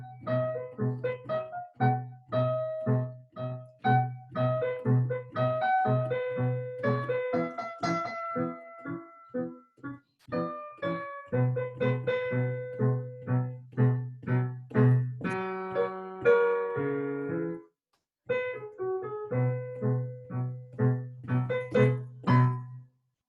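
Solo piano plays a teaching piece, with bouncy detached chords and a bright melody in a lively steady pulse, close and clear, pausing briefly near the end before resuming.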